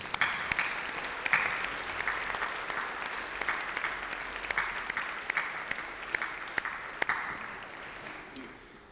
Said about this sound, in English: Please join me in having a massive round of applause for all those supporters.